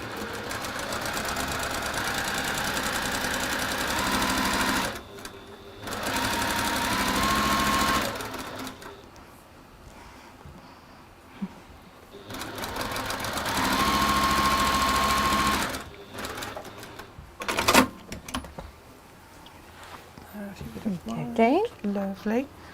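Sewing machine stitching fabric pieces together in bursts of steady, rapid mechanical whirring, two long runs and shorter ones, close and clear, with quiet stretches and a voice talking near the end.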